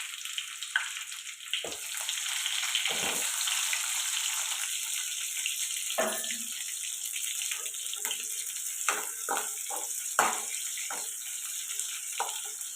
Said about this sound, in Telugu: ఇది ఫ్రై అవ్వాలండి ఇలా ఫ్రై అవుతాయి కదా